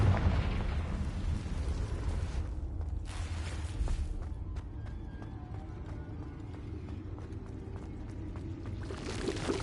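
Confringo fire spell blasting in Hogwarts Legacy, a dense booming rumble that swells at the start, with a sharp burst near the middle and a fiery crackling roar sustained across the clip, a fresh surge at the end.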